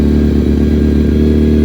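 Kawasaki and Suzuki motorcycles rev hard at the start line of a drag race final, a loud, steady, throaty engine roar with a rattling edge, close by and continuous with no talk.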